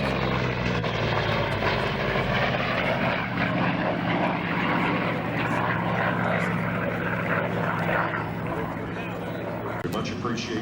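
A Corsair propeller fighter flies slowly past at an airshow with its tail hook extended, its steady droning engine roar filling the air at moderate distance while an announcer talks over it throughout.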